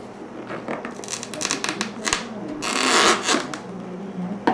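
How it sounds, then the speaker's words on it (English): Flathead screwdriver twisted between a Harley Davidson-style taillamp lens and its housing on an F150, prying it apart with faint crinkling, creaking and cracking scrapes up close, rising into a longer crackle near the end. "flathead driver between the lens and the back, giving twisting motions"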